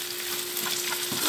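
Turkey ham frying with eggs in a hot pan, a steady close crackling sizzle with a faint hum running underneath, no voices.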